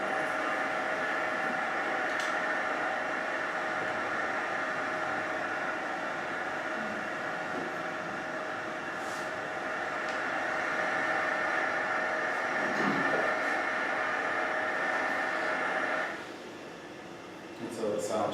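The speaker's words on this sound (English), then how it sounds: "the sound changed, so this is like outside of the dryer" A running clothes dryer heard from outside the machine, a steady droning hum with a tonal whine that holds throughout, then drops away abruptly near the end.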